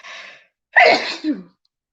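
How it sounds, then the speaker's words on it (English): A single close sneeze: a short breathy intake followed by a sharp explosive burst that trails off quickly into silence. "I feel like I gotta sneeze."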